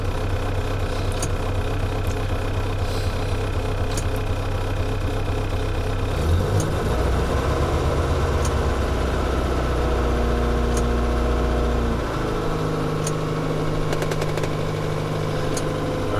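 A 1954 Morris Minor with its 803 engine, newly fitted with an oil restrictor, idles low and steady up close, a continuous mid-pitched rumble with a rapid, even pulse and no talk.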